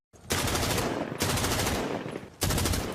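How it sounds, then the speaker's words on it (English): Rapid bursts of gunfire echo down a corridor, three loud, sustained volleys that start abruptly one after another without voices. "Gunshots could be heard from down the corridor."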